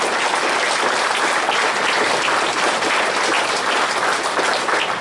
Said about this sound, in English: How about a round of applause for the Spring Hill Central High